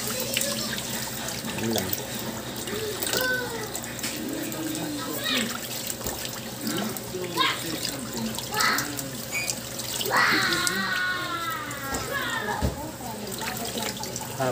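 Steady running water from a tap rinses a hedgehog during its bath, a constant splashing flow underneath a person speaking throughout.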